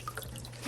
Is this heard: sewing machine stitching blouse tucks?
no